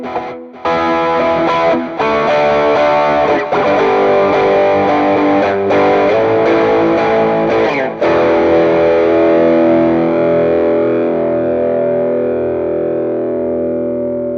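An overdriven electric guitar through a Sonicake Pocket Master, using Pure Delay and Plate reverb, strums sustained chords that ring out with echoing delay and a wash of reverb, fading slowly at the end.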